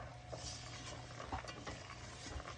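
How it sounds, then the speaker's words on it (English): Sugar-coated peanuts are stirred in a pan over medium heat, with a soft, continuous scraping and gentle sizzle broken by a few faint knocks of the utensil, heard close but quietly and without talk. "now we want to keep stirring until all of the liquid is gone"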